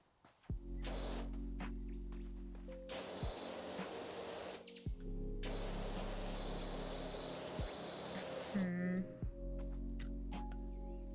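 A pressure washer sprays in long, steady hissing bursts in the PowerWash Simulator video game, cutting off and restarting several times with brief pauses between.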